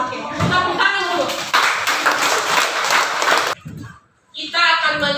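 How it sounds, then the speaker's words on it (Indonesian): Audience applause fills a classroom training session, a few seconds of dense hand clapping that cuts off, then voices return over a brief lull and a renewed murmur. "Oke, tepuk tangan dulu."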